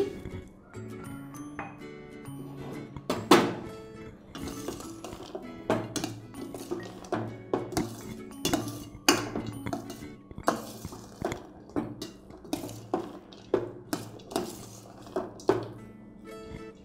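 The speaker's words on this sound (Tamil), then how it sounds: "இப்போ நம்ம வேறு பாத்திரத்தில் மாற்றி வச்சிடலாம்." Freshly made sweet boondi is tipped from a metal pot into another vessel, giving a steady run of clinks, scrapes and metallic knocks from a spoon against the pot, close and fairly regular.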